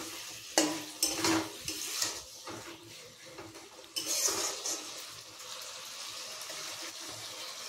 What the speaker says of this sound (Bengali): মশলাগুলো কি সুন্দর দিয়ে ভালো করে কষিয়ে নিচ্ছি